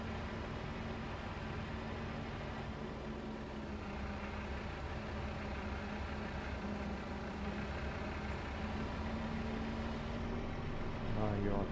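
Heavy bus engine in Farming Simulator 25, a steady low rumble running loud and continuous throughout, with a slight rise near the end and no talk over it.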